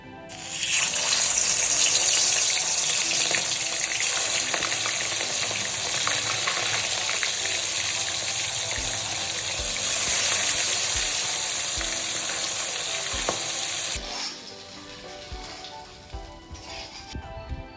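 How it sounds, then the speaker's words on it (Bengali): Fish rubbed with salt and turmeric frying in hot mustard oil in a wok, a loud, continuous roaring sizzle close up that eases and breaks into softer crackling near the end. "এটা গরম হয়ে গেছে আমি এখন মাছটাকে ভেজে নেব"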